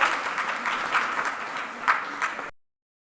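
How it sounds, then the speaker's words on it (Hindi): Applause from an audience at a school alumni honouring ceremony, welcoming a speaker: moderately quiet, steady clapping from a crowd for a couple of seconds before cutting off abruptly. "तालियों के साथ अंजलि ने अपना स्वागत किया।"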